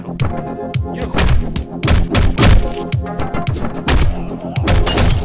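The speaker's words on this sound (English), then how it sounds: "Quiet gunshots." Suppressed gunfire in the top-down action game Hotline Miami: a rapid series of dull, punchy thuds, some with a sharp crack on top, fired in quick bursts over loud, driving electronic music.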